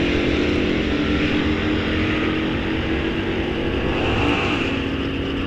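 A Chevrolet Malibu and a Dodge Challenger Hellcat drag race at Rock Falls Raceway, a muscle car event. Engines roar loudly and steadily throughout, with no pauses.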